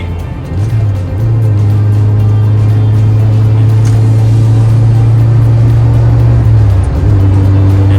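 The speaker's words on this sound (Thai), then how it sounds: "เสียงเครื่องเหมือนจะดุนะ แต่ว่าไม่มีแรง" Toyota Corolla GTi engine idling steadily, close and loud, with a deep even drone that dips briefly around a blip in revs and then settles again; no talking.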